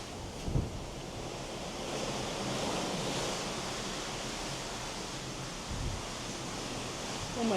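Wind and ocean waves sound as an MSC cruise ship sails at sea, a steady broad rushing wash with a few low gusty thumps from wind hitting the microphone.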